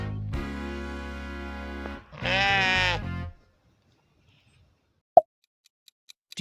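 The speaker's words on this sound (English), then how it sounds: "Yes, that is sheep." A sheep gives a single close, wavering bleat over a short musical phrase, then silence broken by a sharp plop and faint ticks.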